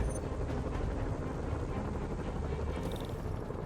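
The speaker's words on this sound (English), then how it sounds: "Bet I can use those helicopters to swing." Helicopter flying over the city in Marvel's Spider-Man video game, a steady low rumbling rotor drone held at a moderate distance, fairly quiet and continuous with a faint whoosh near the end.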